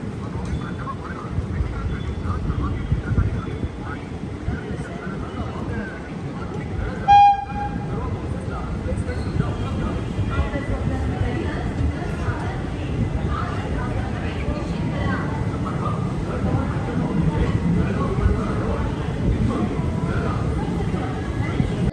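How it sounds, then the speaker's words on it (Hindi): Khandesh Express pulling into Jalgaon Junction, a steady rumble of rolling train noise with a short horn toot partway through, continuing as a constant drone. "जलगांव जंक्शन रेलवे स्टेशन हमारी ट्रेन पहुंच चुकी है"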